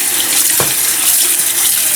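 Cold water pours steadily into tamarind paste to thin it for spreading over cabbage rolls, giving a continuous close splashing rush with no talk.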